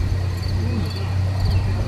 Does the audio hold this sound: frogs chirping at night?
yes